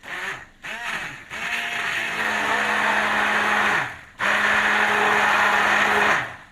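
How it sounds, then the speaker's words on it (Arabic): A hand blender whirs loudly up close in two long bursts, its motor pitch wavering slightly as it works, with a short pause between. "هنجيب الهاند بلندر بتاعنا"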